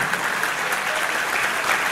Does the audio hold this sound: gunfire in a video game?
no